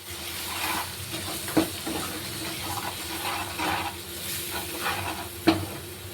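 Spices being stirred into onion and tomato masala frying in a pan for a traditional village-style spicy matki bhaji, with a steady close sizzle, soft scraping strokes and a couple of sharp spoon knocks against the pan.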